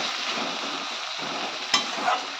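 Onion, tomato and spices sauté in a pan with a continuous close sizzle, while the spoon scrapes and stirs through the mixture with a sharper clink partway through.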